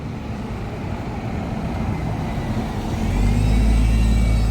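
Route 45 bus pulling into Regent Centre Interchange, a close steady diesel engine rumble that grows louder and deeper as it arrives, with a rising whine near the end.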